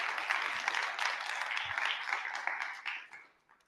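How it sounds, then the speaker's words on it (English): An audience at a conference's closing evening event applauds itself, a dense, fairly soft wash of clapping heard from a distance that thins and fades out over the last second. "Give yourselves a round of applause"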